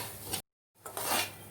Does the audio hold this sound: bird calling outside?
no